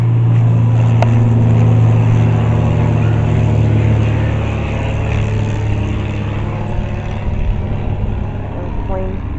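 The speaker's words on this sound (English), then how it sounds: "The plane taking off." An airplane taking off near homes in an airpark neighborhood, a loud steady low engine roar that holds throughout and eases slightly toward the end.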